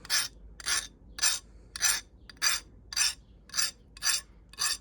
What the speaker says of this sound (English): The simplest way you guys can clean that up is just take a file and just run through the pie just like that.